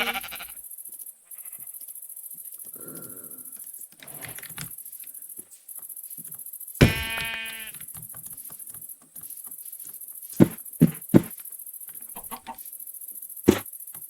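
Minecraft sheep give a single loud bleat amid a quiet game scene, with scattered clicks, soft footsteps and a few sharp hit sounds around it over a faint high hum.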